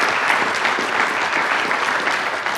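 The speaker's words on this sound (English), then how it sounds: "Let's give him a round of applause." A conference audience at an agricultural outlook forum panel gives a round of applause, dense and loud continuous clapping from many hands filling the room without pause.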